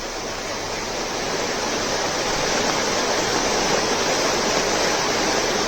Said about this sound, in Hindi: फिलहाल उफान पर तमसा नदी नजर आ रही है